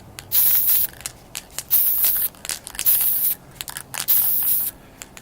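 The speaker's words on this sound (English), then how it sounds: "we'll spray paint the white primer down on them like a light source" Several bursts of white primer spray paint hissing from a can onto miniatures, each lasting about a second, separated by short pauses with faint rustling in between.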